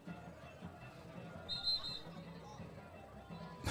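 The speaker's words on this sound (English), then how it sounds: "And another whistle and stoppage of play." Referee's whistle at a high school district soccer championship match, a short bright blast sounding once over crowd murmur and distant field noise.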